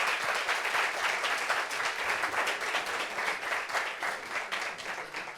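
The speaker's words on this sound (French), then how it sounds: "On applaudit pour eux." Studio audience applauding a couple as they are welcomed on a French talk show, steady dense clapping throughout with no speech over it.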